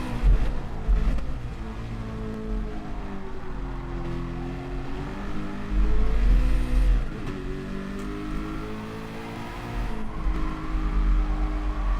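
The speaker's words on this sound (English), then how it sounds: "I keep hitting the rev limiter on this. This doesn't sound like it's ready to change gear." Racing car engine in a racing video game, revving hard with a steady high-pitched drone that repeatedly bounces off the rev limiter, loud and continuous with brief surges.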